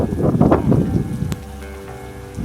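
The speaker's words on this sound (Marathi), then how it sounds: "पाऊस आला जोरात" Heavy rain pours down in a dense, steady hiss, drumming on a surface nearby for a few seconds.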